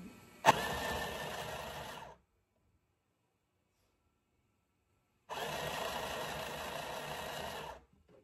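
A small sewing machine runs in two steady bursts of rapid, close mechanical whirring and needle chatter, each about two seconds long, separated by a few seconds of silence, with no talking.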